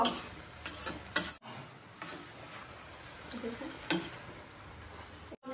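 A dried-fish vegetable curry is stirred in a pan during home cooking in Tripura: intermittent scraping strokes and light clicks over a soft, steady background, fairly quiet.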